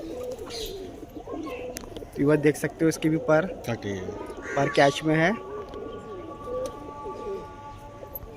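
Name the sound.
pigeons cooing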